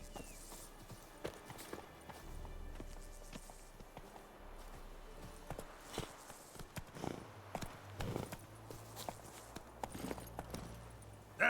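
Roach, the horse in The Witcher 3, trots with rhythmic clip-clop hoofbeats that grow denser and louder toward the end, over a quiet game ambience, with no voices.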